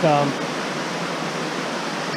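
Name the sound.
waterfall flowing into a pool in a brook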